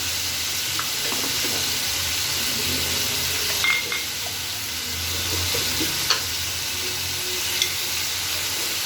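Potato and eggplant sizzle in a pan with yogurt as they are sautéed, producing a constant close frying hiss with occasional stirring scrapes and taps.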